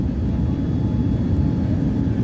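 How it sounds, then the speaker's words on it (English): Cabin noise aboard a Virgin Atlantic flight from Heathrow landing at Miami, a loud, steady, dense engine and airflow roar with no breaks or talk. "This is the Virgin Atlantic flight from Heathrow to Miami."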